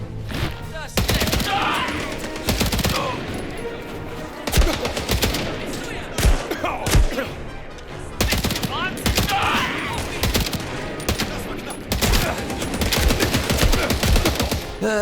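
Rapid bursts of submachine gun fire from Indiana Jones and the Great Circle rattle loudly and repeatedly over fifteen seconds, dense fusillades with short gaps, with a voice talking faintly underneath.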